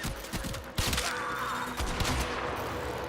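Gunfire in the shooter game Warframe: rapid, overlapping shots cracking in quick succession over a steady background of game noise, fairly loud with a few sharper isolated blasts.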